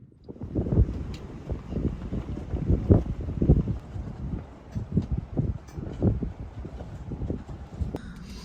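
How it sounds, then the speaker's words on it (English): Strong wind of about 20 knots gusting to 25 buffeting a sailboat, rough gusty rumbling of wind across the microphone rising and falling in uneven surges. "I want to say the wind is getting a little better"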